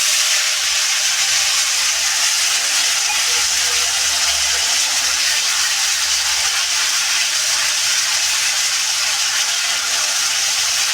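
Onion paste frying in hot oil with whole spices gives a loud, steady, close hiss that holds evenly from start to finish with no pauses.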